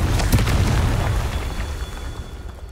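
A Confringo spell explodes in the video game Hogwarts Legacy as a loud, dense booming burst that fills the whole moment and then slowly dies away.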